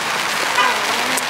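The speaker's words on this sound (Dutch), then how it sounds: "Het regent opeens echt heel hard." Heavy rain pours down in a dense, loud, steady hiss that fills the whole moment without any break.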